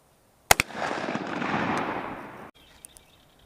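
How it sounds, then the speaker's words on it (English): A Benelli M2 shotgun fires heavy metal shot outdoors, two sharp close cracks in quick succession followed by a long rolling echo that fades out. "He's got a Benelli M2, and he's going to be shooting the heavy metal first."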